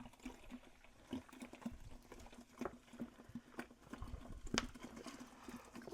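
Mountain Dew poured hard into a wide mouth fermenter, a continuous fizzy splashing and bubbling with crackling patter, fairly quiet and close.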